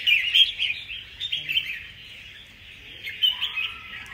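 Caged songbirds offered for sale chirp and tweet in rapid, bright bursts, fairly close and clear over a quiet background, with a brief pause midway before the calls resume.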